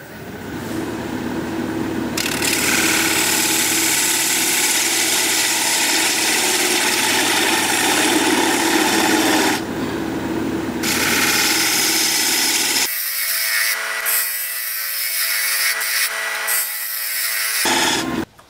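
Steady, loud scraping and rushing from a gouge hollowing a burl bowl on a woodturning lathe, with brief changes in tone and near-silent gaps toward the end.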